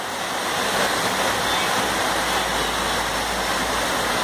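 Steady, rushing water pours through a 17th-century water-powered grain mill in Aurangabad, a dense continuous roar that stays close and even throughout without voices.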